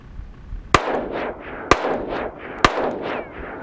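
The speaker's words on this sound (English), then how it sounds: "So we're going to put some more rounds out there and just show you what the recoil is." Three sharp, loud pistol shots from a Smith & Wesson M&P 5.7 fired outdoors, spaced about a second apart, each ringing off with a short echoing tail.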